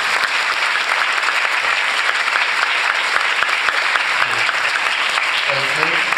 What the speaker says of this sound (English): Batchmates, let's give them a warm round of applause.